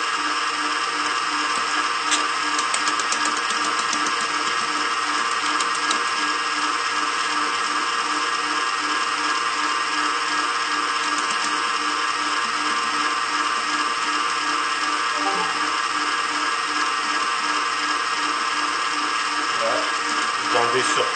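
Electric hand mixer whirring steadily as it beats sponge cake (génoise) batter, a loud continuous motorized drone with slight fluctuations throughout.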